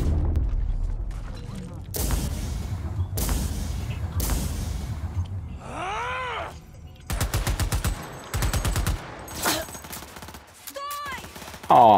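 Gunfire in Cyberpunk 2077: sharp bursts of automatic shots in separate volleys, loud and close, broken by mechanical clicks and short electronic sweeps between the firing.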